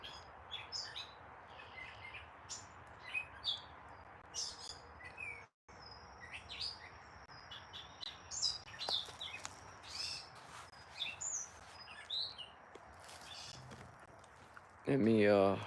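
Birds chirp and tweet in short bursts over a soft outdoor hiss in Maryland, with a person speaking quietly now and then.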